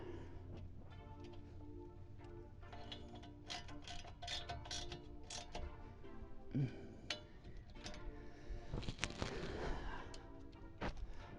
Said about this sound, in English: I'm going to tighten the bracket down.